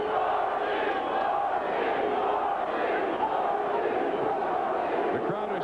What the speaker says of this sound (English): The crowd is chanting for Dorsey